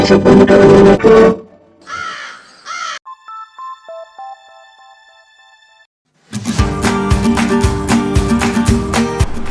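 Loud bursts of crow cawing, harsh and repeated, with a quieter gap of faint tonal calls in the middle before the raucous cawing returns.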